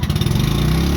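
A small propane-fuelled generator engine runs loud and close, a steady low mechanical drone with a rapid pulsing chug and no talking over it.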